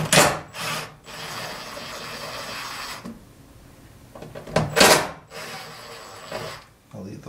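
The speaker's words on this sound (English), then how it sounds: "I'm going to pull this fan out of the way. It's got two screws on it." A power screwdriver whirs in a few short runs while screws are removed from a cooling fan inside a Samsung DLP television, mixed with close scraping and handling noises of the parts.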